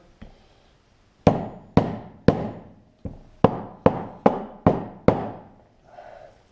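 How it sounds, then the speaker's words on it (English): A hammer strikes a punch to drive a wheel bearing seal into a Yamaha Blaster hub, about ten sharp metallic blows in a steady rhythm after a soft tap, loud and close. "can't get the hammer in all the way, so you just want to use a punch"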